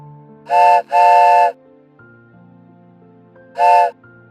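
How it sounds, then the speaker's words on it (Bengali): A train pulling into a station in Switzerland sounds a loud, clear whistle in two close blasts, then a third a few seconds later, over a low rumble and hum from the arriving train. "কফিতে চুমুক দিতে দিতেই দেখলাম ট্রেনও এসে হাজির হয়ে গিয়েছে"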